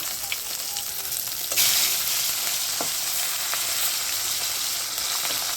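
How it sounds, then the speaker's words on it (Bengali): Fish rubbed with turmeric and salt frying lightly in hot oil, a steady close sizzle with crackling pops that swells louder partway through, with no voices. "মাছগুলো একটু হালকা করে ভেজে নিলাম"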